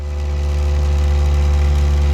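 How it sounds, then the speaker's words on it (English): A Honda Jazz with a swapped-in K20 engine idling high, a steady, loud mechanical drone with a constant pitch and some rattles, heard close up with no talking. "but as you can see it's idling really high"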